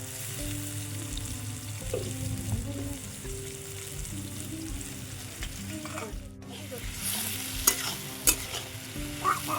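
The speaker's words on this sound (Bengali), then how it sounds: "তেলটা গরম হয়ে এসছে। এর মধ্যে দিয়ে দিলাম পেঁয়াজ।" Chopped onion sizzles in hot oil in a home kitchen pan, a steady close frying hiss with occasional stirring clinks and scrapes, a soft tonal hum running underneath.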